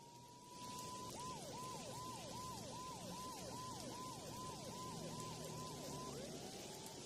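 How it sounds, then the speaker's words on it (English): A police siren in the video game Max Payne 2 wails in a rapid repeating up-down pattern over a constant low ambient rumble, cycling about a dozen times before sliding off. "Mona must have heard the sirens too."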